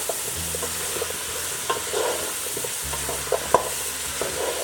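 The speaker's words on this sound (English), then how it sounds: "which is potatoes and carrots. Fry that up a little bit." Potatoes and carrots fry for Korean gochujang jjigae, giving a steady soft sizzle under occasional stirring scrapes and light clinks from a utensil in the pan.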